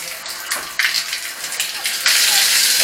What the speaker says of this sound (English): I'll show you how good the water pressure is. I don't want to get myself wet, but I mean, that's on like half,